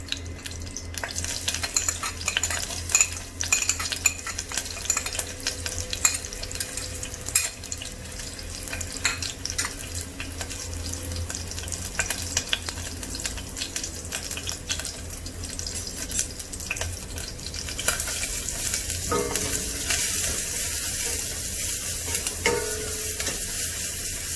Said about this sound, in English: Once the mustard seed starts to splutter, we add in the blended black pepper, cumin seed and garlic.